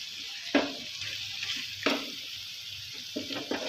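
Ginger and green chili paste sizzles in a pan over low to medium flame for chicken karahi, a soft steady frying hiss broken by a few sharp stirring scrapes.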